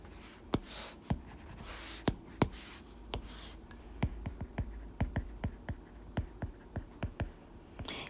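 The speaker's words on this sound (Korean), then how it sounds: "빨간색으로 써볼게요" A red pen writes on paper during an English lesson, giving quick scratchy strokes and sharp taps in an irregular rhythm, close and fairly quiet.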